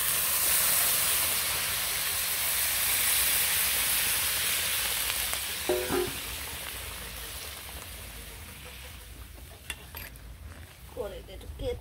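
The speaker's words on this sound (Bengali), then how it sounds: "কষানো হয়ে গেছে, ঝোল দিয়ে দিলাম।" Broth poured into a browned Bengali curry sets off a broad, loud steamy hiss that gradually softens, with a few scraping stirs and small clinks later on.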